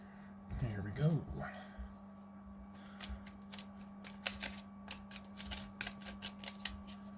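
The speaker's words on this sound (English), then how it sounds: "I definitely prefer shuffling the sleeves." Magic trading cards in plastic sleeves being shuffled, a quick flurry of riffling at first and then a run of soft, irregular card slaps and clicks, quiet and close up.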